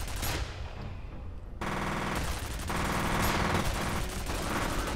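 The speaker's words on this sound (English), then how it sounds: "This turret is so OP" A mounted turret in the video game F.E.A.R. fires long, loud, rapid automatic bursts, close and continuous, with a short lull early on before the firing resumes and keeps going.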